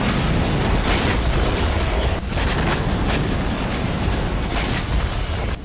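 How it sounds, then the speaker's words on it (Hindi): Heavy, continuous rumbling booms from explosions around a hospital in Gaza under Israeli bombardment, a loud dense roar with repeated blasts and no talk. "ऐसे में अस्पताल के आसपास लगातार धमाके हो रहे हैं।"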